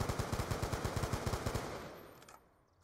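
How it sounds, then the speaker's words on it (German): Rapid automatic gunfire in a competitive shooter match, a fast steady burst of about twenty rounds lasting two seconds, loud and close, then cutting off to leave a fading tail. "Er hat wohl auf Verdacht geschossen."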